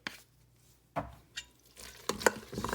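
A spoon stirring seasoning salt and pepper into mac and cheese in a pot, giving a few soft, separate scraping strokes with quiet gaps, then a busier spell of stirring at the end.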